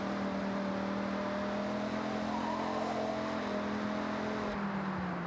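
Dodge Ram SRT10 pickup in the Forza Horizon racing game, its engine holding a steady, loud idle drone with a low rumble throughout, slightly changing near the end, with no talking.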